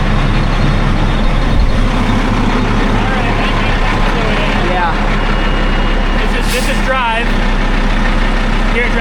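Heavy LVSR HEMTT military truck, sold as inoperable and low on fluid, runs with a steady loud diesel drone and torque converter engaged, a constant low rumble throughout with voices talking over it.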